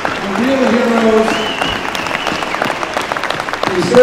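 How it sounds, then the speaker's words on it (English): A crowd applauds loudly and steadily for law enforcement officers and their families at a public event, with a voice speaking over the clapping and a few cheers rising above it. "So give these guys a round of applause."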